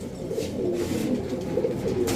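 Female Royal Teddy pigeons coo in soft, low, throaty bursts, repeated several times close by against a faint background hiss.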